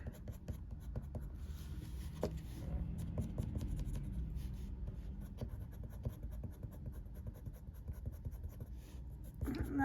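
Coloured pencil drawing on paper, with the pencil forced into a tight corner of an ocean scene: continuous soft scratchy scribbling strokes, close and steady throughout, with a few light taps.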